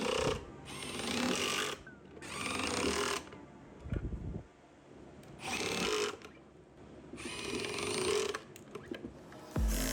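A power driver sends screws into pocket holes on a router table shelf, with four loud whirring bursts of one to two seconds each and short pauses between them, plus a few knocks.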